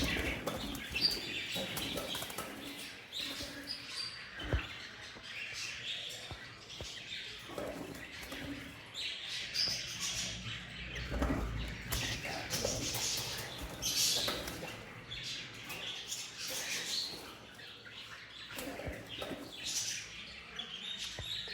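Rubino rosella parrots, a high red factor breeder pair, chirp and call in a busy aviary, with scattered tweets and wing flutters amid steady background bird noise.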